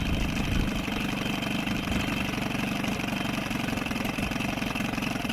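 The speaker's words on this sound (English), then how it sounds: "she runs fantastic if you just leave the choke on. She idles down." A boat's engine idling with the choke on, a loud steady close rumble with a fast even putter that holds through the whole stretch, no voices over it.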